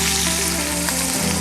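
Seasoned beef short ribs laid into a hot stew pot sear with a loud, dense, continuous sizzle, close and steady for a brief moment without any voices.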